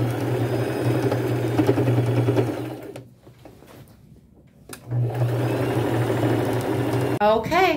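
A sewing machine stitches the side seams of a pair of upcycled overalls with a steady, close whirring hum that stops for about two seconds midway, then resumes until a brief clatter at the end.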